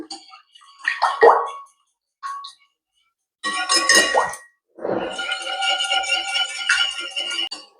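Vanilla essence is mixed into French toast batter in a bowl: a few separate clinks and taps come first, then a longer run of rapid rattling whisking, close and alone.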